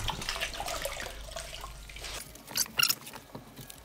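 Lukewarm tap water running while a motorcycle helmet is cleaned, a faint irregular trickle and splash with brief louder spatters near the end, recorded close in a quiet room.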